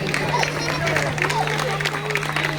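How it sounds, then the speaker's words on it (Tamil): Audience applause at a Pongal festival cultural program held by a village youth association, a steady wash of clapping and crowd noise lasting throughout, with voices murmuring underneath and a constant electrical hum. "கைதட்டுங்க."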